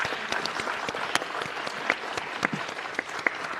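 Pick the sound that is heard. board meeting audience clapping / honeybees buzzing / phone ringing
board meeting audience clapping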